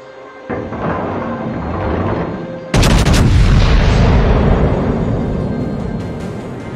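The battleship Missouri's main guns fire in a naval game, a rumble building before a massive booming salvo that leaves a long, loud rolling roar decaying slowly.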